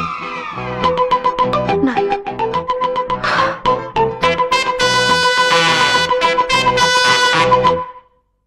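An incoming call rings on the doctor's phone: a loud electronic melodic ringtone with bright repeated tones and shifting notes, playing continuously for several seconds before cutting off abruptly.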